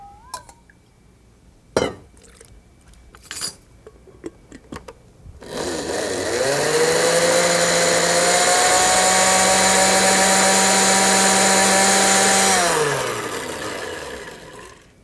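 Electric blender grinding a masala paste with water, starting after a few scattered kitchen clatters and running loud and steady with a high whine for about seven seconds before winding down, with no voices.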